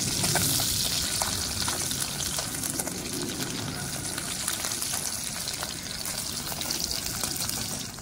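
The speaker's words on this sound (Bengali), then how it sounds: "দেখুন এক পিস করে ভাজা হয়ে গেছে। এরকম করে ভাজবো, বেশি ভাজবো না।" Continuous bubbling sizzle of koi fish frying in hot oil one piece at a time, steady and close, with faint clinks and stirring underneath.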